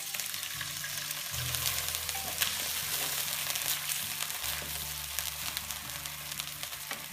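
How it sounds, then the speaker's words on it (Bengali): Onions fry in a pan as garlic paste and a splash of water go in for a hilsa fish and zucchini curry, giving a steady, close, crackling sizzle that runs the whole time with no talk. "আমার পেঁয়াজটা মোটামুটি ভাজা হয়ে এসেছে এখন আমি রসুনের পেস্ট এবং সামান্য একটু পানি দিব মশলাটা কষানোর জন্য"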